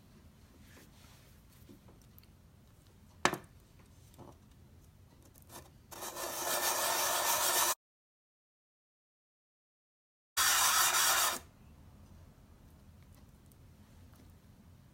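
An abrasive pass strips the black coating off a brass fidget spinner, a loud rough rubbing burst lasting a couple of seconds, then a sudden dropout of sound, then a second short burst, over quiet background.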